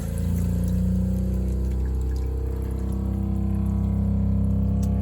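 Water runs continuously from a bathroom faucet in a 2008 Coachman Freedom Express camper, a steady hissing flow with a low hum underneath and no voices.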